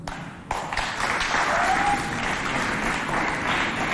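Audience applause breaks out at a children's quiz-show holiday event and holds steady and loud, a dense continuous clatter of many hands with a faint crowd murmur.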